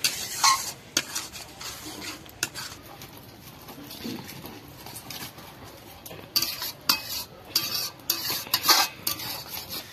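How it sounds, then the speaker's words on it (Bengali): Spice paste is stir-fried in a pan with a little water for kosha mangsho at an outdoor winter picnic. Close, persistent scraping and stirring strokes sound over a soft sizzle, in uneven bursts with quieter stretches. "এবার এটাকে খুব ভালোভাবে কষিয়ে নেব।"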